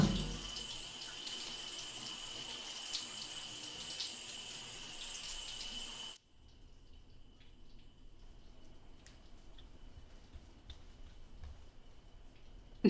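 Shower water running in a steady hiss that cuts off abruptly midway, leaving a quiet room with a few faint drips.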